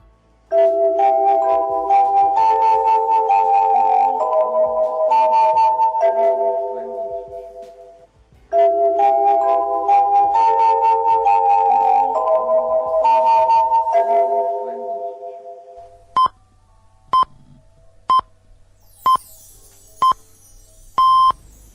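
A Soviet radio station's bright electronic interval-signal melody plays twice in a row, followed by a slow series of single high beeps like time pips.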